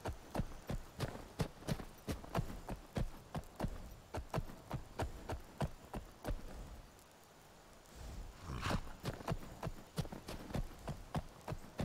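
Hooves clop rhythmically at a brisk pace while riding a horse in Skyrim, soft and steady, briefly dropping away near the middle before the galloping beat resumes.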